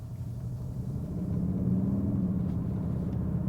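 A Cupra Formentor's engine gives a low, steady rumble while the car moves at low speed, heard from inside the cabin as a continuous deep drone that swells slightly after the first second.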